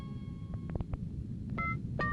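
Several short telephone keypad tones dialing a number, faint and spaced irregularly over a low steady background hum.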